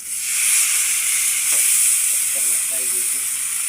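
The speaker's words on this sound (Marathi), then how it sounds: "सगळ्यात पहिले आपण आहे ना ही मोठी चिलापी तळणार आहेत" A large tilapia is dropped into a pan of hot oil, giving a steady, loud hissing sizzle that continues evenly throughout, with no talking.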